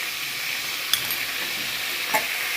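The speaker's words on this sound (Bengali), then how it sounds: "এটাকে আঁচ কমিয়ে ভাজবো।" Potatoes fry together with vegetable stalks in a pan on low heat, giving a steady close sizzle broken by two short scrapes of stirring.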